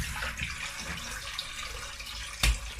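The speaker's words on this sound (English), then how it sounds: "I'm gonna rinse it." Tap water runs steadily over corn being rinsed in a sink, a close continuous splashing hiss with one brief louder clunk near the end.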